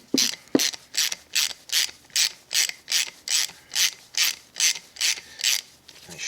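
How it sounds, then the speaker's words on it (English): A socket ratchet clicks steadily on a Cotic bike drop link, loosening Loctite-treated bolts; about fourteen even, close ratcheting strokes repeat in a regular rhythm with no talking. "4mm on a socket is really nice and useful for this job, and a T25 Torx in this side"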